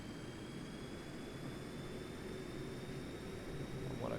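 Boeing 737-200 jet engines spooling to takeoff power in a Prepar3D flight simulator, a steady broadband roar with a faint high whine, constant and fairly quiet throughout with no talk.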